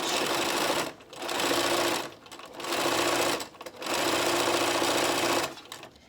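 A sewing machine sews thin cotton fabric over plastic welt cord on a long stitch length, running in three loud bursts with brief pauses between them.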